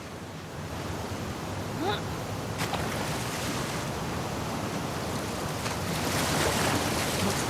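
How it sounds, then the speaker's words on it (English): Water waves washing continuously while swimming toward the aquarium in the video game The Last of Us Part II, a steady broad surf-like wash with faint wind, no voices. "it remained in essence in the section swimming to the aquarium as Ellie, when you were avoiding the waves"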